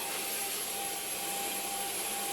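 A new household vacuum cleaner runs steadily indoors, giving a constant whooshing roar with a thin high whine and no change in level. No one talks over it.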